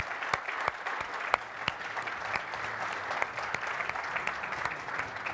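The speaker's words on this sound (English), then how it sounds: "please join us with a big round of applause" An audience applauds an award recipient at an awards ceremony, a steady dense wash of clapping sustained throughout with a few sharper individual claps standing out.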